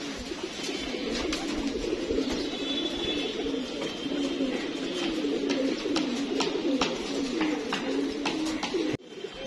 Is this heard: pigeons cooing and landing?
yes